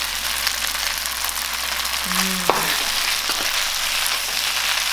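Chinese broccoli tossed into a hot wok of stir-frying Pad See Ew, a steady loud sizzle throughout with a brief clatter of utensils and vegetables landing midway.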